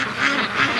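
Free-range ducks quack twice in quick succession, close and clear, with no other sound competing.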